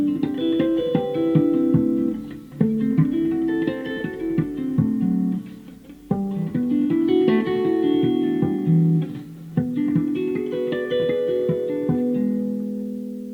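Guitar harp harmonics played in a cascading pattern over a 2-5-1 secondary dominant chord progression, ringing bell-like note runs repeating in phrases of a few seconds, solo and close.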